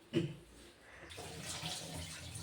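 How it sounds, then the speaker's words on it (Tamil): Water splashes and runs as a cooking pot that held tomato rice is rinsed in a home kitchen, a brief louder slosh at the start, then steady faint trickling. "தக்காளி சாப்பாடு பரட்டின சட்டி இருந்தது அதை அத்தை கழுவி வைக்கிறாங்க"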